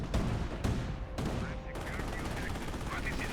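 Gunfire rattles through a Company of Heroes battle, with several sharp bursts in the first two seconds followed by denser, softer crackling, all under quiet commentary.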